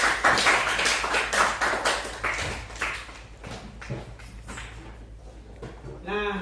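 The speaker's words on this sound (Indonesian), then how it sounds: "Kasih tepuk tangannya dulu." A classroom of pupils claps for a few seconds, with uneven, sharp hand claps close by that thin out and fade toward the end, and a voice speaks briefly at the close.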